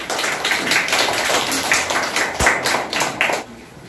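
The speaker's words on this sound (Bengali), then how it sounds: "সবাই হাততালি।" Children at an OFDC primary school indoor plant exhibition clapping for prize winners, with a dense, fairly loud burst of clapping that fades out near the end.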